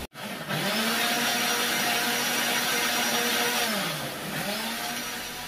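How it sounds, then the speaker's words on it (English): A kitchen blender whirring loudly and steadily while blending food for a Cameroonian casserole, pitch sagging and recovering twice as the load shifts, close and alone with no talk, cutting off near the end. "So let me go ahead and blend and then we'll continue."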